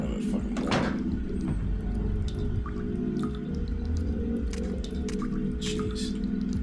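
Water drips in Silent Hill 2 inside a decaying building, soft wet plinks scattered over a steady low rumble of ambience.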